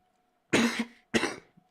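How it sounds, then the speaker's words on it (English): A person coughs twice, close and loud, two short, harsh bursts about half a second apart, with a faint throat sound trailing after the second, in an otherwise quiet room. "I've been coughing like crazy since the new year"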